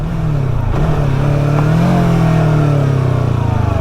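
A Yamaha R3 motorcycle engine revs up loud and close, a buzzing roar that climbs and holds high for a few seconds without any voices.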